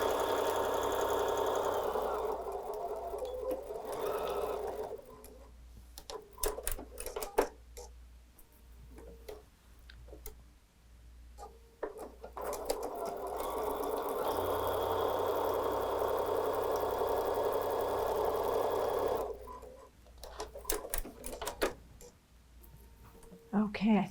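Sewing machine stitching fabric for a pincushion, a steady rhythmic motor whir in two long runs separated by a quieter stretch with ticking and handling noises, while someone talks over it.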